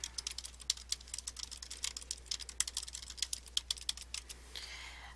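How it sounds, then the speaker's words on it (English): Rapid, crisp clicks from a computer keyboard as someone types, up close and steady, over a low constant hum. "I'd type in my information for directions here."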